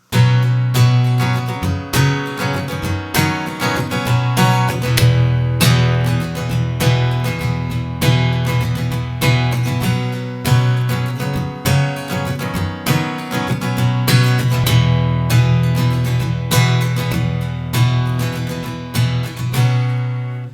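Looped guitar chords from a song, layered on a loop pedal, play steadily and loud with a bright, full strummed texture and a steady rhythm throughout.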